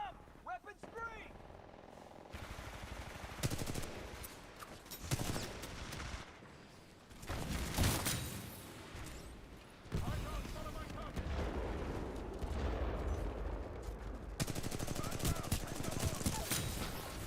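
Dense, continuous gunfire in the shooter video game Titanfall 2, with rapid automatic bursts and heavy booms layered over one another while voices shout beneath the din.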